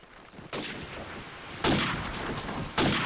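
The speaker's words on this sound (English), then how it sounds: "So Dex here firing off a couple of shots, doing the wall bang." Three loud, sharp gunshots in Call of Duty 4 during a competitive match, each a sudden broadband burst with a decaying tail, spaced about a second apart and standing alone without talk.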